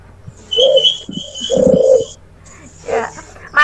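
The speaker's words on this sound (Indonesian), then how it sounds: "Burungnya Mas Randy bunyi terus ya." A pet bird coos and calls over and over in dove-like phrases, fairly close and steady in bursts, with faint background sounds between calls.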